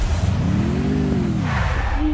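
A car engine in a video game revs up and swells, then fades as the car drives off, a single short rising and falling pass over a low background rumble.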